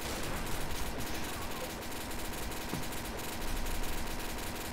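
Dense, continuous gunfire from Trouble in Terrorist Town fills the whole stretch at steady loudness, rapid shots blurring into a constant clatter, with faint speech underneath.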